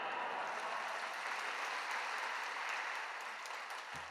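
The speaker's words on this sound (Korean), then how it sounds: "박수로 맞이하겠습니다" A church congregation at a dawn worship service applauds to welcome a pastor, a dense, even wash of clapping that holds steady for several seconds.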